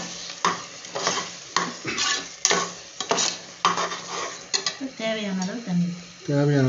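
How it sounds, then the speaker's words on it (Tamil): Spoon scraping and stirring masala in a pan with intermittent clinks against metal, over a soft sizzle of frying in oil, close up, while cooking mutton. "நல்லா எண்ணெயில் நல்லா மசியுது, நல்லா மசாலாலாம் நல்லா மிக்ஸ் ஆகிடுச்சு."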